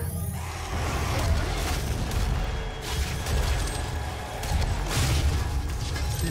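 Loud, dense booms and crashing blasts from rocket launcher explosions tearing through enemies in DOOM, rolling continuously with a heavy low rumble and no break.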